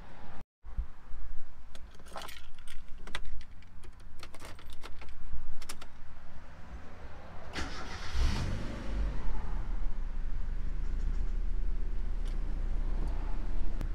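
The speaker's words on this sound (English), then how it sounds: "Next up is going to be start the car and just listen first." A Mazda Miata engine cranks and catches, then settles into a steady low idle, preceded by clicks and key rattles, with traffic from a busy street faintly in the background.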